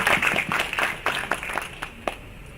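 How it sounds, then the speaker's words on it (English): Small audience at a national undergraduate physiology quiz clapping for a participant, a brief burst of scattered hand claps that thins out and fades within a few seconds. "Please clap for him."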